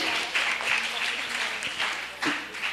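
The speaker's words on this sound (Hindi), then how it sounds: "बहुत खूब, जोरदार तालियां होना चाहिए।" Audience applause at a Bait Bazi poetry contest in Aurangabad, a steady broadband patter of clapping that swells in brief bursts across the few seconds, with the crowd noise sounding moderately near.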